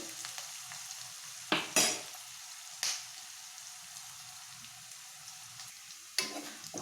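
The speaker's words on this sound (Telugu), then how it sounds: "ఆనియన్ ముక్కలు బాగా రెడ్డిష్ వచ్చే వరకు బాగా ఫ్రై చేయాలి" Onion pieces frying in oil until reddish, a soft, steady sizzle with a few sharp spatula scrapes and clicks standing out at irregular moments.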